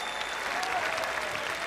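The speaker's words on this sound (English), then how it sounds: "Let's give them a round of applause." Steady audience applause at a FIFA eWorld Cup 2019 grand final esports event, a dense, even wash of clapping from a large crowd sustained throughout with no talk over it.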